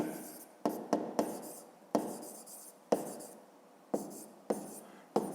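A pen writes by hand on paper during a fifth-grade math exercise: quiet, close scratchy strokes come in short bursts separated by brief pauses.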